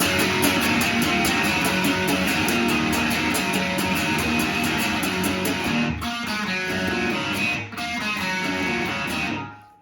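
Distorted electric guitar chugs dense power chords in a driving, steady rhythm, loud and continuous, with a couple of brief breaks before cutting off, playing the chorus of a song.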